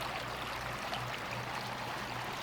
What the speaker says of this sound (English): Once you're done looking at the waterfall and the stream